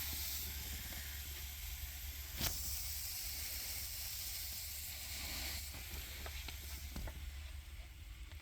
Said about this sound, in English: Ooh, sizzle, baby,